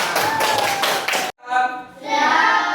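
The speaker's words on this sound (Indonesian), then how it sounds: "Tepuk tangan." Students in an Indonesian Islamic religious education classroom clap their hands in a dense, loud burst for about a second. It stops abruptly and is followed by a short stretch of voices.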